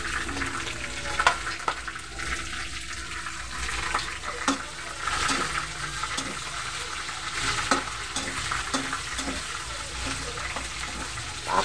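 Onions going into a pan with reddening garlic for chicken adobo wings, a steady close sizzle of frying with scattered stirring clicks throughout, no talking.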